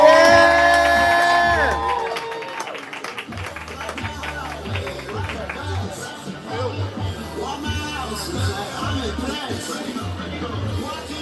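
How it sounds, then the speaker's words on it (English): A crowd at a live poetry slam claps and cheers for the next poet, starting with loud whoops and shouts, then settling into a long, dense wash of steady applause with scattered voices. "We clapping, we building energy, we making all the noise for Anno!"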